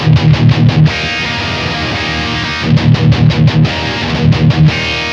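Distorted electric guitar through a Blackstar St. James 100 amp running EL34 and 6L6 tubes together, playing loud chugging palm-muted bursts with sustained ringing chords between, the chugs returning in two rhythmic clusters.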